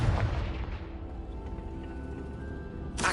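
A Confringo spell blast in the Hogwarts Legacy video game: a booming, explosive burst that opens loud and then decays into a rumbling tail, with a second sharp crack at the very end.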